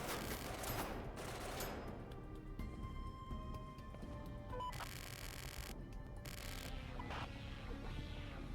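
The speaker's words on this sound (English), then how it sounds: "One burst from that machine gun is enough to tear a man clean in half." An emplaced machine gun in a video game fires several rapid bursts at a fairly low level, with short gaps between the rattling strings of shots and no voices.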